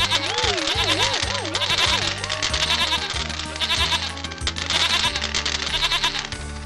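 Cartoon goat bleating loudly in a Hindi animated story about a magic pot, wavering bleats repeated over a musical background.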